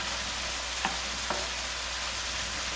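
Radish pieces being stir-fried for mu namul with a little garlic, a soft continuous sizzle with two faint scraping stirs of the pan, low and steady throughout.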